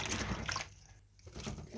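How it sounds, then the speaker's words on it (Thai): Water is poured off vegetables being washed in a home kitchen, a brief soft splashing trickle that pauses and then resumes. "เทน้ำทิ้งแล้วก็จะล้าง ล้างหนึ่งหรือสองน้ำ"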